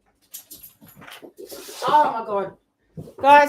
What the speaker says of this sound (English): if you hear dogs barking, my dogs are going absolutely crazy this morning.